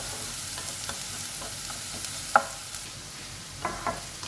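Onions sauté in a pan over a medium-high flame, giving a soft steady sizzle with a few sharp clinks of a spoon against the pan, close and without talk.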